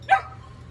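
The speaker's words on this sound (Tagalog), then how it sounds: "So yun yung aso kong maingay, natuta." A single short dog bark, fairly close, over a low steady background hum.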